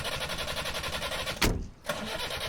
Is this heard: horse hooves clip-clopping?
no